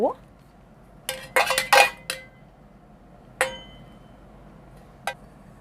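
A few bright metallic clinks of a stainless steel spatula against a pan, a quick cluster followed by two isolated taps, over a quiet background.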